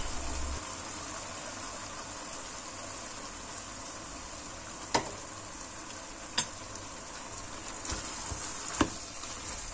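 Wild Kanlıca mushrooms sautéing in a pot, a steady soft sizzle and hiss throughout, broken by a few sharp clinks of a utensil against the pot as they are stirred.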